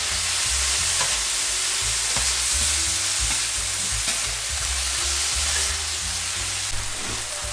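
Ingredients for a kimchi burger fry in a pan with a steady, loud, dense sizzle that continues unbroken, with occasional stirring and no one talking.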